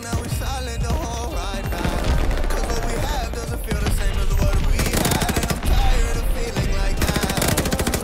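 Rapid bursts of automatic gunfire from hip-firing a gun in a video game, dense overlapping shots over game music and effects, loud and near.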